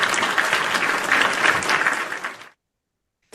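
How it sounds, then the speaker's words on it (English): Live studio audience applauding a trading livestream crew after an afternoon session, a dense burst of clapping for about two and a half seconds that cuts off abruptly into silence. "let's give these guys a round of applause for a job well done this afternoon."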